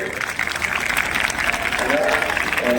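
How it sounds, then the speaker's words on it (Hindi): Schoolchildren clap together to welcome guests at a school parent-education gathering, a continuous even patter heard under a voice on a microphone. "हम चाहेंगे कि इनका स्वागत सभी बच्चे ताली बजाकर इनका स्वागत करें।"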